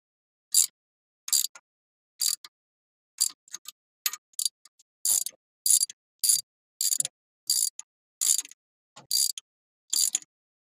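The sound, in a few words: tightening bolts with a ratchet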